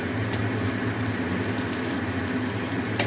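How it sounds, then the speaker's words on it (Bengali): Fish, including koi, fry covered in hot oil in a pan, giving a steady, dense sizzle and bubbling hiss that runs unbroken and fairly loud, with no talk. "মাছগুলো এবার ভেজে নিচ্ছি।"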